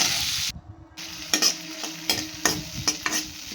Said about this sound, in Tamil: எண்ணெய் ஊற்றி நல்லா அது ஃப்ரை பண்ணி வச்சுக்கோங்க.